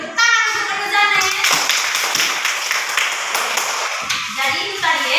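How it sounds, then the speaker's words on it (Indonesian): Primary school students clapping in a classroom, a burst of many small hands clapping loudly and continuously, with children's voices talking and calling out alongside. "tepuk tangan untuk Nana Janet."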